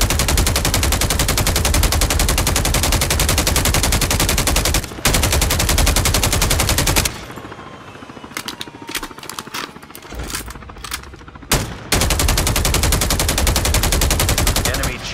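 Sustained rapid automatic gunfire from a video game chopper gunner scorestreak's machine gun, loud and continuous, breaks off for a few seconds of scattered distant shots, then resumes at full intensity.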